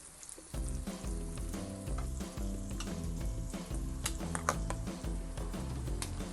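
Ground paste for a jackfruit seed and capsicum koorma fries in a pan with a dense, constant sizzle and crackle, while a utensil taps and scrapes as it stirs, close and steady throughout.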